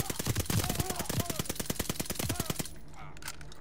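Suppressed gunfire in Call of Duty: Vanguard, a rapid string of muffled, evenly spaced shots close up for over two seconds, then stopping as quieter game ambience and faint voice take over.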